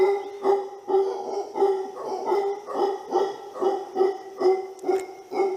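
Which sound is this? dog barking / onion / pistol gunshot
dog barking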